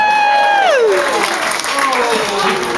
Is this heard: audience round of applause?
yes